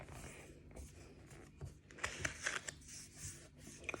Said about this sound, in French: On va tout simplement plier.